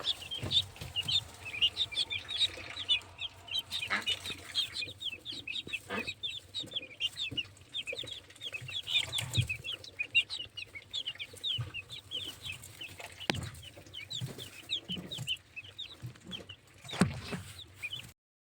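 Young guinea fowl and other poultry, including Muscovy ducks, a broody hen and a goose, chirp and cluck without a break, close by and fairly loud, with occasional louder thumps and rustles.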